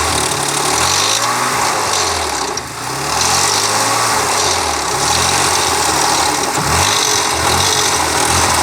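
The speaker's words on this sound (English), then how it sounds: "Hear it on the overrun when he comes off the throttle." Car engine on the overrun after lifting off the throttle, a steady loud mechanical drone with wavering low harmonics rising and falling, continuous throughout with a brief dip near the start.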